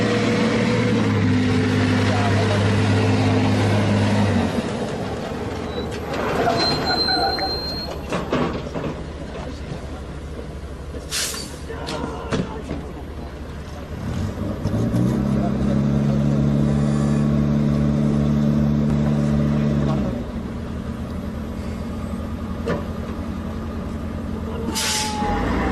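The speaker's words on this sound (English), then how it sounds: "You will now see the Bofors gun towed by a tow truck" A Scania tow truck hauls a Bofors gun, its heavy diesel engine droning and revving in stretches, with sharp air-brake hisses between pulls and voices talking faintly underneath.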